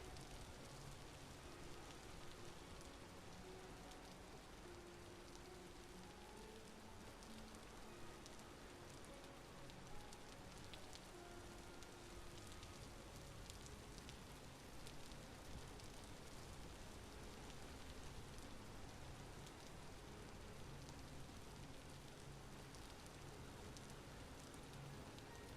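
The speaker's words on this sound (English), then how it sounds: "It's raining." Rain in Vintage Story, a faint continuous hiss of falling rain with soft patter spread evenly throughout, quiet and unbroken, no talking.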